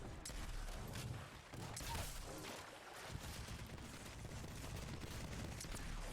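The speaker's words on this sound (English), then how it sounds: "Then there's gunshots" Rapid bursts of gunfire in an Apex Legends match, dense and loud, with overlapping shots and impacts filling the whole stretch without pause.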